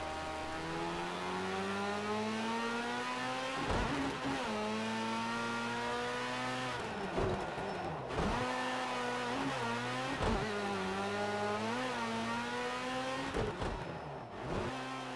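Racing car engines from the video game Project Cars 2 whine steadily, rising and shifting through gears with sharp dips at each change. Nobody talks over the continuous engine drone.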